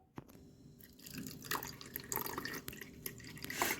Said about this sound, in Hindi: पानी भर लेता हूँ।